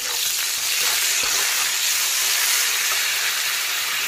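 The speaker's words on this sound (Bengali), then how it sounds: "এখন আমি এর মধ্যে দিয়ে দেবো কিছুটা পরিমাণ ফোটানো জল" Boiled water hits hot oil in a karahi of raw baby Hilsa curry with stemmed eggplant, raising a loud, steady, close sizzle and hiss that lasts the whole time.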